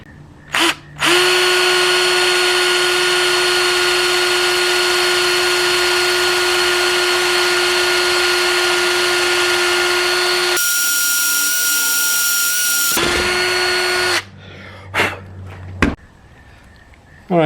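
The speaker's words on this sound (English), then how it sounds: "next we're going to drill a hole in one of these giant washers." A power drill bores through a giant steel washer, a steady loud whine held for about ten seconds, then a higher-pitched stretch before it winds down, followed by a few short bursts.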